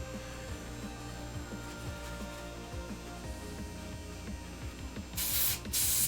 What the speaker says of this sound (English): I'm just rinsing my airbrush.